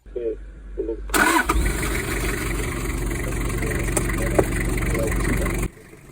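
A Toyota Hiace van from the 1980s or 90s cranks briefly, then catches and settles into a loud, steady idle before cutting off, with someone talking over the start.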